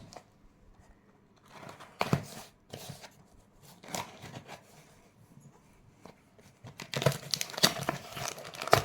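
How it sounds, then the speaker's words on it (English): Plastic and cardboard packaging of a RuhZa SATA to USB 3.0 hard drive converter cable crinkles and tears in close, irregular bursts, with quieter rustling between the louder rips. "Let me just go ahead and quickly unbox this."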